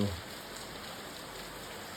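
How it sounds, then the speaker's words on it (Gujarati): Steady, dense rain pours down in a continuous hiss, loud and close, with no break. "એટલો વરસાદ આવે છે જોરદાર"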